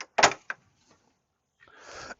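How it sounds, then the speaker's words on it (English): A door is swung and latched shut: a couple of sharp knocks and thuds, a short scraping rustle, then a final crisp click, all close by with no talk. "Get this door latched here."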